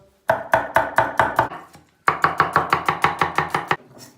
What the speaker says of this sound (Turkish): İşimize önce soğanları doğrayarak başlayacağız.